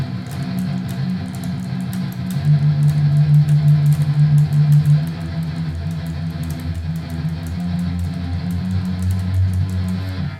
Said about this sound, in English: The lower guitar part sounds like this.